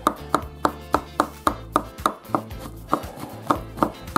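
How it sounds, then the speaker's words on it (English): Knife chopping gathered mushrooms on a cutting board, a steady series of about fourteen sharp, evenly spaced taps close by, with no talking. "now we're going to gather our mushrooms together and kind of chop like this"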